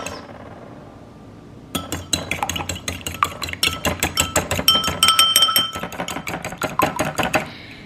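A utensil whisks apple pie filling around in a medium-small bowl, producing rapid, continuous clinking and scraping against the bowl at close range, starting abruptly after a quiet moment and stopping near the end.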